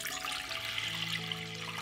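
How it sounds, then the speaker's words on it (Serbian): Clean water pours steadily into a cooking pot, a close, continuous splashing and gurgling stream with no talking. "zatim ću u šerpu sipati 2 litre čiste vode"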